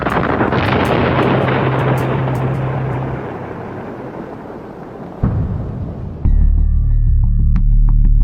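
Rocket engine firing at launch, a loud sustained roaring rumble with a low steady drone that swells, dips, then jumps to a heavy deep roar near the end, no voices.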